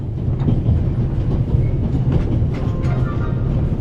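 A train rolls along steadily in The Raven Remastered video game, a loud continuous rumble with faint rhythmic clatter of wheels on track, no talking.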